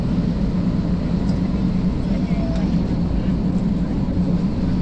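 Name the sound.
airplane accelerating down the runway for takeoff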